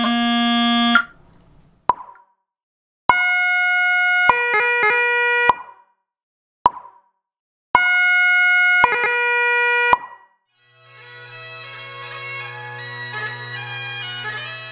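A Highland bagpipe plays burl embellishments in separate short phrases broken by silences, bright and reedy with quick grace-note flicks, close and loud, ending in a sustained chord over the drones.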